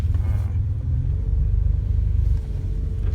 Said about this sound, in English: let this traffic go by here